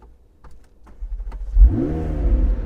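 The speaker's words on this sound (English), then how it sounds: "So we start the engine," A McLaren 720S Spider's engine starts up: a few faint clicks, then a loud starter catch and a burst of revs that settles into a strong, steady idle close by.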